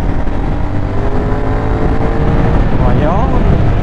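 Car engine pulling hard through an overtake on a highway ride, a steady loud roar with rising revs near the end, continuous throughout.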